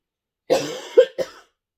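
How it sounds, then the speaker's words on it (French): Three coughs close to the mic from a woman who is ill: one drawn-out hack, then two shorter, sharper ones in quick succession, with silence before and after. "Je vais tousser, je suis désolée."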